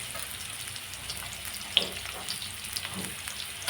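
Ridge gourd fries in oil with a faint, even sizzle and a couple of small clinks.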